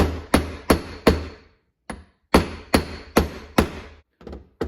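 An oil seal on a Suzuki DRZ400SM motorcycle engine case is driven in with a socket, about nine sharp hammer taps in an uneven rhythm with short pauses, close and clear.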